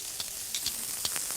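Food sizzles steadily on a griddle pan, a constant frying hiss dotted with small pops and crackles, close and unbroken, with no talking.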